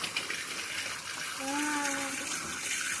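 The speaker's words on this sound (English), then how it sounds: "this little boy has figured out a way to make a water fountain in the sink" Water gushes and splashes steadily from a sink tap rigged up as a small fountain, loud and close, while a voice briefly rises over the flow partway through.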